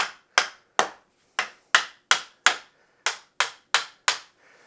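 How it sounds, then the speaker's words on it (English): A hammer strikes tight metal dogs in a workbench vise: about eleven sharp, evenly spaced taps, close and distinct, each ringing briefly in a quiet workshop. "the face has a couple of very tight dogs that I need to hit with a hammer to get them to protrude"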